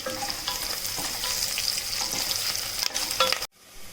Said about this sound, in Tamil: கருவேப்பிலையும் சேர்த்து வதக்கியாச்சு